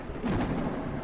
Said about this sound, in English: It is raining out.